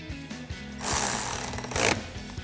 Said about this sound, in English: Thread your nut back on and tighten that down.